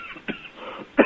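A man on a Korean political talk broadcast coughs twice, first a short cough, then a louder, harsher one a moment later, close to the microphone with no talk.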